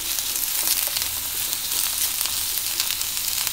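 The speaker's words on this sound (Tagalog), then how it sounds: "Sunod na po natin ang onion. Gisa lang po natin yan." Chopped onion sautéing in hot oil for Filipino lumpiang hubad, a steady, close sizzle and crackle running without a break, with no talking.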